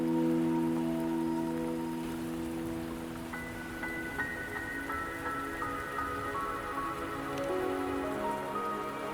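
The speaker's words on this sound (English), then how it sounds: "Don't worry, the rain won't last much longer." Continuous video game rainfall patters softly beneath gentle sustained musical notes, with a few brighter chimes entering partway through.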